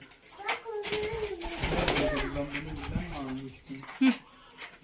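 Pigeons coo softly at their roost on a farm, low murmuring calls repeating under a child's and adult's chatter, with a brief louder coo near the end.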